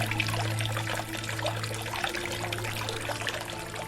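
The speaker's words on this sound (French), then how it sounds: "son bassin central qui laissait entendre le bruit de l'eau" Water trickling steadily into the central basin of a stone cloister in the medieval town of Crémieu, a soft continuous wash of flowing water over a low steady hum, with no voices.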